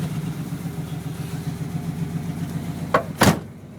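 1972 Chevrolet Chevelle engine in cold Canadian weather idles with a low, steady, pulsing rumble up close, with two short sharp bursts near the end.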